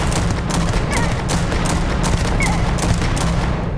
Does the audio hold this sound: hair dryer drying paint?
no